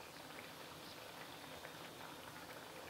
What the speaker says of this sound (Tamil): இப்போ மீதமுள்ள வடையும் எண்ணெயில் போட்டு பொரித்து எடுத்துடலாம்